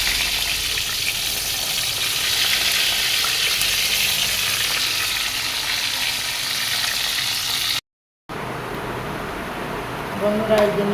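Eggplant slices fry in a pan with a steady, bright sizzle that runs on for several seconds, breaks off for a moment, then returns with a faint clink near the end.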